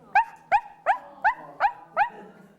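A little dog yaps six times in a quick, evenly spaced series of sharp, close, high barks with brief silences between them.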